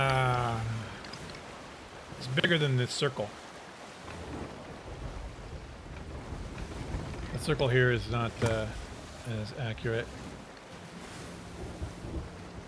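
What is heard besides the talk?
rain and thunderstorm at sea in the video game Sea of Thieves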